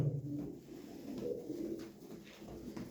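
Pigeons coo in soft, repeated rolling calls close by, layered over a low background hum, with several birds overlapping steadily throughout.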